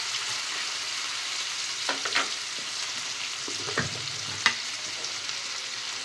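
Sliced medium onions and green chillies frying in oil in a pan, a steady even sizzle with a few faint spatula scrapes and one sharp tap, no talk.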